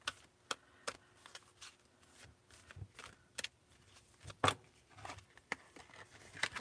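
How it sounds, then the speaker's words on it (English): Thin tarot cards are shuffled by hand, a series of soft, irregular riffling snaps and flicks close by in a quiet room. "So, let's shuffle these and see what comes up here."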